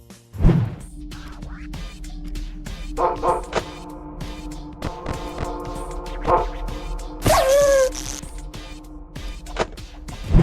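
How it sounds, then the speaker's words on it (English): Dog barks and yips from the video game Five Nights at Frickbear's 3 sound in scattered bursts, with a whimpering cry and a sharp louder bark near the end among quiet game ambience. "When he spawns, you hear a bark sound"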